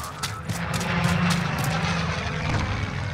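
An airplane engine drones overhead in the Call of Duty Warzone video game, a moderately loud, sustained propeller-like hum that swells slightly and holds, heard without talking.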